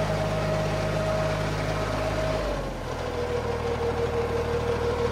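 A tractor engine idles with a steady low rumble and droning hum in a rain-soaked grape vineyard, its pitch dipping slightly midway, continuous and fairly close, with no talking.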